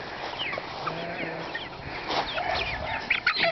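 Chickens cluck and squawk in short, irregular bursts, some near and some a little farther off, in a farmyard with high grass where a dog herds them outdoors.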